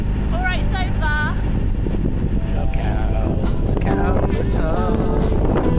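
Wind buffets and rumbles loudly and steadily against the microphone as people talk over it outdoors aboard a narrowboat.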